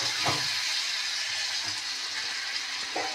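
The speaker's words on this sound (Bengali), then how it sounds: "একটু জল অ্যাড করে দিলাম।" Water goes into a hot pan of frying spices and potatoes, setting off a steady, loud hiss and sizzle with a few soft bumps and no talking.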